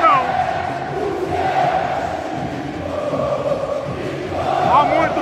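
Flamengo supporters chant and sing together in a stadium after a match against Atlético MG, a dense, continuous crowd roar with melodic swells that rise louder near the end.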